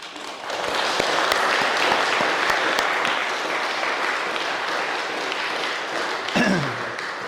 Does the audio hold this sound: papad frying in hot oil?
no